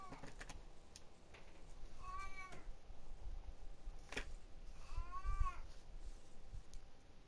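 A cat meows twice in the Fallout 4 video game, drawn-out rising and falling cries separated by a short pause and a sharp click, fairly close over a low ambient background.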